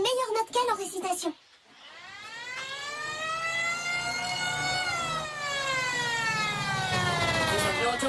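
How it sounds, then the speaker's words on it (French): After a brief burst of voices, a loud wailing fire engine siren rises and holds its tone, continuous and close. "J'ai récupéré une sirène de pompier dans une caisse auto."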